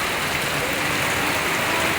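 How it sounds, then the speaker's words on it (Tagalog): Heavy rain pours down steadily, a dense, loud hiss with no breaks and no voices. "Kasi grabe talaga yung ulan dito."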